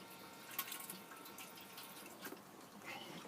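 Water runs from the tap into the sink of a Fiat Ducato-based Hymer Dethleffs Globetrotter campervan, a faint, steady splashing trickle with small drips and spatters, close by and with no talk over it.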